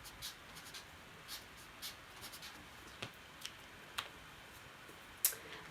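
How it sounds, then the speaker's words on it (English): A pen scratching across paper, soft quiet strokes with scattered faint ticks as it writes out letters, close and alone with no talking. "I'm going to write that on there."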